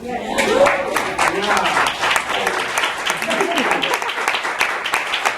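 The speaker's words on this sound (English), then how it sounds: "If you want to stand up, we'll applaud." Audience applause for an international class of participants from many countries, a steady wash of clapping from a room of people with voices murmuring underneath throughout.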